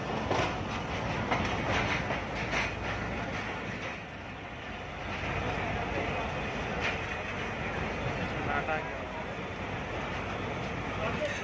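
Karachi Circular Railway train pulling into Cantt station, a steady loud rumble with clickety-clack of wagons on the rails running throughout, close by, with people talking faintly underneath.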